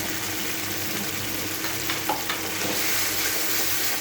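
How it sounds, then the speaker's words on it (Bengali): Banana stem frying in a pan gives a steady close sizzle with light stirring scrapes, continuous and fairly loud, no voices. "ভাজাটা প্রায় হয়ে এসছে।"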